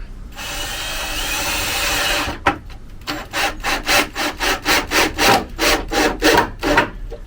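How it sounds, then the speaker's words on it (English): A power drill drives 40mm screws into a wooden planter shelf, starting with a steady whir and then a quick series of about ten pulsing bursts as the screw bites into the wood, loud and close. "I'm just going to use some 40mm screws just to hold this down."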